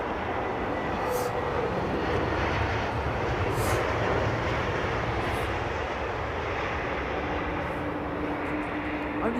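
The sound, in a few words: airplane departing runway 27R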